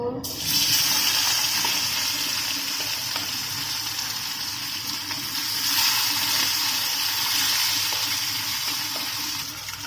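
Rohu fish dropped into hot mustard oil, setting off a sudden steady loud sizzle that hisses evenly throughout, with faint background sounds underneath.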